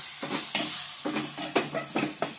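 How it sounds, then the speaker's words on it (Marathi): Tomatoes are stirred into Kolhapuri-style chole in a hot pan: a run of about six rhythmic scraping strokes over a soft, steady sizzle, close up and alone. "हलवून घ्यायचं आहे।"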